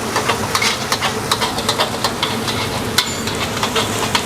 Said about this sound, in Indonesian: Kita tumis dulu sampai wangi.